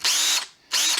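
A Ryobi cordless power drill whirs at medium speed in two steady bursts, with a brief drop in between as the trigger eases off. The motor is close and loud, with no talking.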